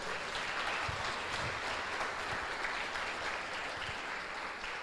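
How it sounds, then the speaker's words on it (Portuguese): A church congregation applauds during a Christian service, a dense, steady wash of clapping that fills the whole stretch at an even level, with no voice standing out above it. "Vamos aplaudir Jesus?"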